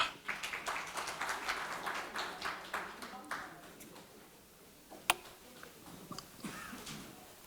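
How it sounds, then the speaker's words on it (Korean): A seminar audience gives scattered, fairly faint applause that fades after a few seconds, leaving sparse claps and a sharp knock over room quiet. "박수로 모시겠습니다"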